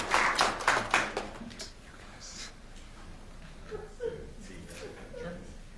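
Audience applause at a community learning event, a short burst of clapping from a room of people that fades within about two seconds, followed by quiet room murmur and soft voices.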